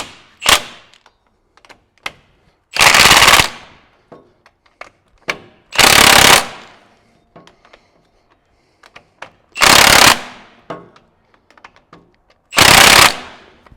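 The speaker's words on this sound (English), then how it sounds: "we can go back up front and tighten down those 4 bolts on the pinion" A power tool tightens the four pinion bolts on a front drive shaft in five loud, close bursts of ratcheting rattle, each a second or so long, separated by quiet gaps with small clicks.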